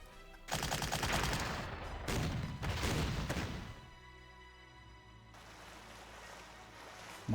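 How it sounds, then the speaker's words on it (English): Artillery fire in the World War II strategy game GC-40 comes as loud, dense bursts of booming blasts over the first few seconds, then settles into a quieter rumbling, watery ambience. "More artillery."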